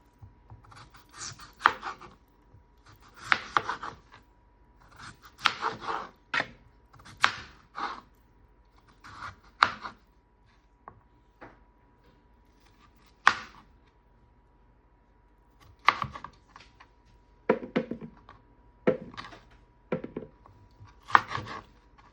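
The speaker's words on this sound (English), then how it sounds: "now I'm going to go ahead and cut it into cubes" A knife cuts a peeled potato into cubes on a cutting board, giving a series of short, crisp chopping and scraping strokes in uneven clusters with brief pauses, close and clear with no talking.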